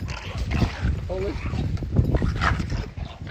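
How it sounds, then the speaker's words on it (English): Dogs fighting, with scuffling, snarls and yelps mixed into excited shouting from people nearby; the noise is loud, irregular and close. "Oh, my dog is fighting."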